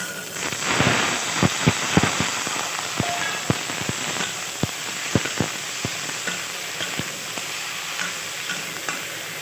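Ridge gourd and potato pieces drop into a pan of browned frying onions and sizzle loudly. Sharp crackling pops and spatula scrapes repeat over a steady hiss of hot oil, close up.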